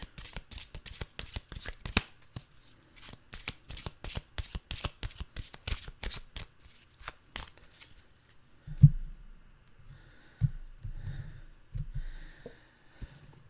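A deck of animal oracle cards is riffled and shuffled up close in quick papery bursts, then the card noise gives way to softer handling thumps and rustles near the end.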